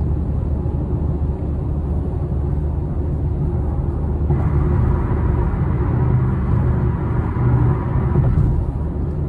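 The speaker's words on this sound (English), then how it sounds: "Why does it sound like wind when we're inside the car?" Steady low road rumble and broadband wind-like noise fill the cabin of a car driving south on Veterans toward Tampa over a bumpy road, continuous and fairly loud with no talk.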